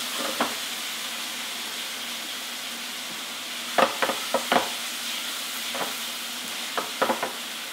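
Fresh tomatoes dropped into a hot pan for penne arrabiata, sizzling steadily while a utensil stirs and scrapes in short bursts of clicks; close and fairly quiet, with no speech.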